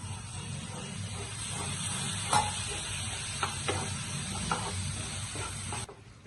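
Continuous close sizzling and hissing of a spice paste frying in a pan as a little water is added, with a few sharper crackles and stirring scrapes, then it cuts off at the end.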